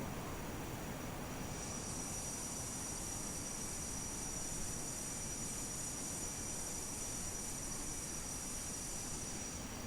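Airliner landing in Microsoft Flight Simulator with thrust reversers deployed, a steady low engine roar that thickens into a brighter, hissing whine after the first couple of seconds, moderate and continuous with no talking.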